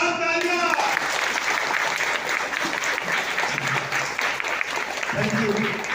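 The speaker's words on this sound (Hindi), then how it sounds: "उनके लिए पर जोरदार तालियां।" A hall audience at a product program in Rajnagar, Jharkhand, breaks into loud, sustained clapping, a dense roar of many hands, with brief tonal voice or music fragments at the start and near the end.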